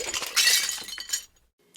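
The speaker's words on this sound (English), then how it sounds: "Glass breaking." Glass breaking sound effect played as a guessing-game prompt: a bright crash of shattering glass followed by a few tinkling shards settling, loud and close, then fading into silence.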